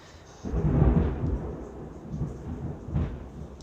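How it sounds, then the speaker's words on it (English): Thunder rumbles outdoors on a day with partly blue sky, a deep roll that swells early, fades, then rises again in a second lower rumble, moderately loud with no talking. "oh, we've got some thunder"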